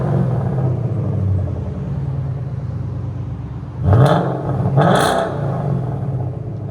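A Ford Mustang GT with a 5.0L V8, custom H-pipe and Flowmaster Outlaw exhaust idles with a deep, steady rumble. It then gives two sharp throttle blips in quick succession before settling back to idle.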